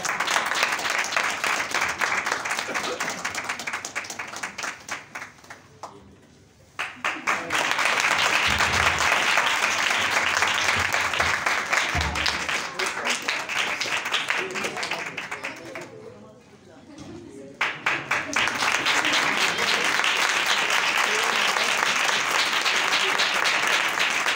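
Loud, sustained audience applause fills the space, a dense wash of many hands clapping that dips briefly twice before swelling back to full strength, with voices mixed in.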